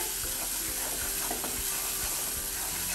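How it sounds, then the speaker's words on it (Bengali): Spring onion stems and tomato being stirred in a pan, with a steady low sizzle and soft scraping of the spatula running throughout, fairly close and continuous with no voices. "পেঁয়াজের পাতার নিচের অংশ আর টমেটো দিয়ে ভালো মতো করে আমি নেড়ে চেড়ে নিলাম।"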